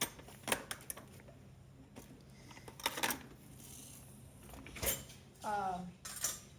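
A small metal spatula and a canning jar lid are handled at home while canning collard greens, giving scattered light clinks and scrapes with a brief ringing metallic tap near the end, soft and close.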